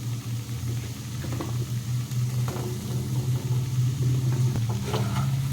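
Potatoes and brinjal frying in oil in a pan give off a steady, close sizzle with a constant low hum and scattered small crackles throughout.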